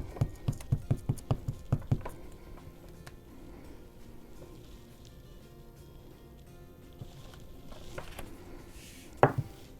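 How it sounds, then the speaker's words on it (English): A rubber stamp taps strawberry shapes onto paper with a quick run of about a dozen crisp, close, even knocks, then a long quiet stretch with faint rustling and a couple of final sharp taps near the end. "I'm going to stamp all of my strawberries again using Flirty Flamingo ink"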